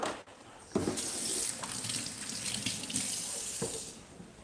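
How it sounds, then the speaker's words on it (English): Hands being rinsed under a running kitchen tap, a steady close stream of water splashing into the sink, with brief surges as the hands move through the flow, and no voices. "Rinse my hands off again."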